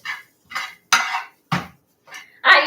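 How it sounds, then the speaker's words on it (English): Potatoes are sautéed in a pan, with five or six sharp bursts of metal scraping and stirring against the cookware separated by brief pauses, close and clear with no talking. "Now all we do is saute this."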